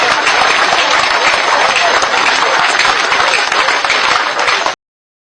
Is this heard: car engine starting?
no